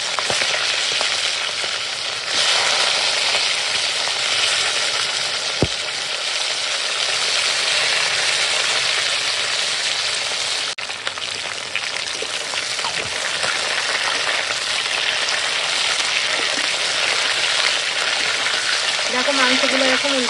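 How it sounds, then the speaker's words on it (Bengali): Loud, continuous sizzling of chicken pieces frying in hot oil, a dense crackling hiss that persists throughout. "ওই তেলে এখন মাংসগুলো দিয়ে দেবো আজকে মাংসগুলো ভেজে রান্না করবো"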